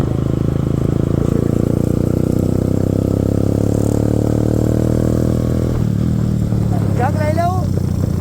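A nearby motorcycle engine runs loud and steady at a low throb, then shifts as the bike pulls off and rides away, heading out on a camping trip; voices are heard over the engine.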